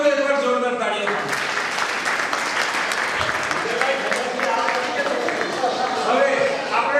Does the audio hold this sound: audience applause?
yes